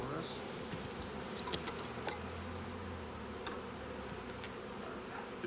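Honeybees hum steadily and continuously around a backyard hive as a bee package is installed, a dense close-up drone with small ticks and bumps from handling.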